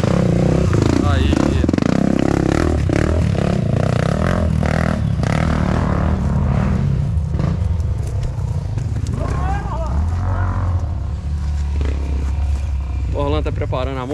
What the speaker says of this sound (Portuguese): Parando a moto.